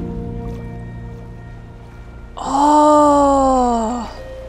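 A player character plunges into water in Minecraft, heard as a loud swelling splash with a bubbly wash that holds for about a second and a half and then fades, over a steady background hum of game ambience.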